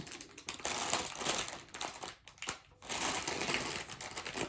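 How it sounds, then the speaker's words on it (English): Crinkling and rustling of a fancy plastic bag holding cross-stitch supplies, a continuous close, scratchy rustle in uneven bursts with one short pause, no talking. "So for the crinkling, my fairy schoolers are in this very fancy bag"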